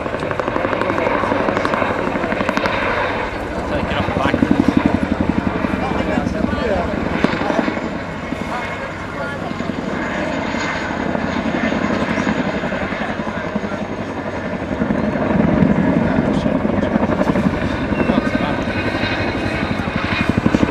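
RAF Chinook helicopter flying a display at Waddington in 2011, a loud continuous rotor and engine roar that swells and fades, with a voice speaking over it.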